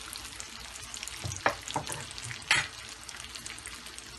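Chicken shami kababs fry in a pan with a soft, steady sizzle, broken by a few sharp spatula clinks and scrapes near the middle, quiet and close.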